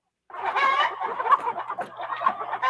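A chicken from a film clucks and squawks continuously in a rapid, agitated run of calls, loud and close, with no voices over it.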